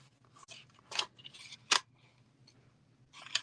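Scissors snip through a strip of paper to cut it in half, with several crisp close blade snips at irregular intervals over a quiet room, no talking.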